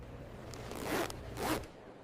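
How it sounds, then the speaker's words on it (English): A zipper on a winter coat rasps in two quick pulls, close and fairly quiet, with a short pause between them and no voices. "Can somebody help me with this zipper? I'm stuck."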